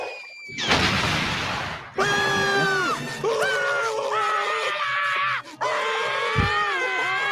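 Loud, prolonged screaming from several SpongeBob SquarePants cartoon characters, wavering and strained, broken by short gaps and a brief burst of noise at the start.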